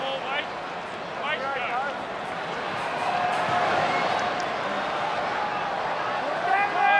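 Steady roar of a big rugby league stadium crowd at a Parramatta Eels game against St George Illawarra Dragons, a continuous wash of noise that swells slightly midway, with a commentator talking over it.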